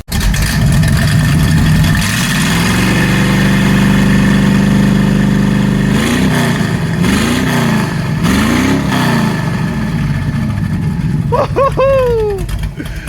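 Chevrolet C10 pickup with exhaust cutouts open, its V8-style engine loud and close, a steady throaty idle giving way to several sharp revs that rise and fall; a short voiced whoop rises near the end.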